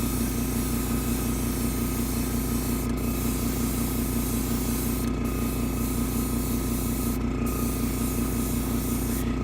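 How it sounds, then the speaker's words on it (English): Dark gray spray paint hisses steadily onto the concrete of a model train layout, loud and close without a break, under a constant humming drone, with brief faint clicks now and then. "I'm just spraying dark gray right in these areas where there's breaks in the concrete"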